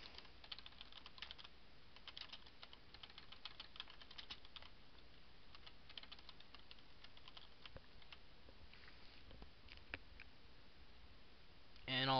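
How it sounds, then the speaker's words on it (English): Text is typed on a computer keyboard as a steady run of soft, close key clicks at a quick, uneven pace, faint against a low room hiss. "I'm just going to type in something."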